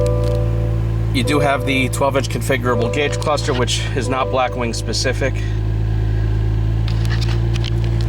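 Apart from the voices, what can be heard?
Cadillac CT4-V Blackwing engine starting and running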